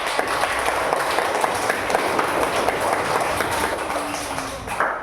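A classroom of pupils claps together, a lively burst of clapping that runs steadily and then tapers off near the end, with faint voices mixed in.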